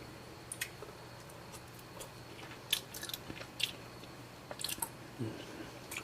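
Someone chews a mouthful of black beans, rice and lean ground beef, giving faint, close, soft crunches and wet squishes in irregular bursts against a quiet hum.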